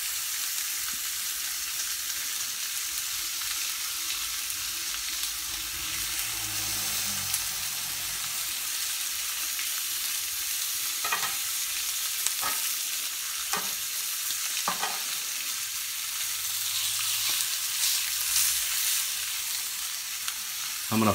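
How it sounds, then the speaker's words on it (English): Steak sizzling steadily in a pan as butter is basted over it, a continuous close hiss broken by a few spoon clinks and scrapes against the pan. "Try to baste the butter onto the steak."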